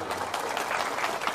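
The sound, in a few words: audience applause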